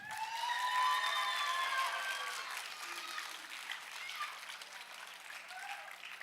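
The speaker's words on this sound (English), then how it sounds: "Let's give him a round of applause." A fairly quiet round of applause from an audience at a talk greets a man named Matt, with a few voices whooping or cheering over the clapping at the start before it thins out.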